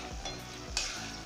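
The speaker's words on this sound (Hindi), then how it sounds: "अब हम जो लहसुन को फ्राई करके रखे हुए थे वो डाल देंगे" Fried garlic is added to a simmering gravy in a pan for a garlic sabzi: a steady soft sizzle and bubbling hiss with a few dull low thumps of stirring, close and alone.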